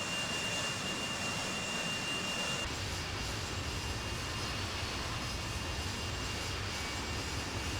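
Airbus A320 jet engines in the FSLabs A320X flight simulator game give a steady, broad whooshing roar that shifts in tone partway through and stays even and fairly quiet, with no voices over it.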